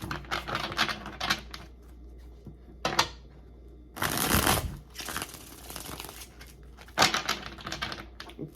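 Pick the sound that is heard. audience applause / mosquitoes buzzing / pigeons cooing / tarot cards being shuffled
tarot cards being shuffled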